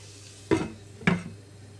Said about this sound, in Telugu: కొంచెంసేపు మూత పెట్టేస్తున్నాను.